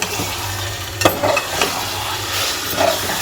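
Mutton liver added to onions sizzles steadily in a pan, with a constant frying hiss and a few louder stirring scrapes and clinks over it, close up and with no talking.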